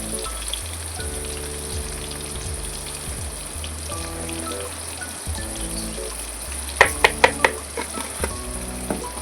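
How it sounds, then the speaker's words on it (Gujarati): Tomatoes cooking in a pan for pav bhaji, an even, close, crackling sizzle that runs throughout, with a few sharp clinks near the end. "હવે છે ને ટમેટા ફૂલ પાકી જાય ને ત્યાં સુધી આપણે એને પકવવાના છે"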